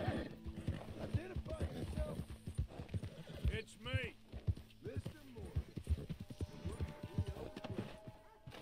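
Horse hooves clip-clopping in Red Dead Redemption 2, a steady uneven trot with a whinny in the middle, under someone talking over the game sounds.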